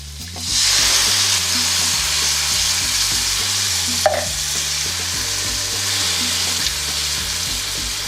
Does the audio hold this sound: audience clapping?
no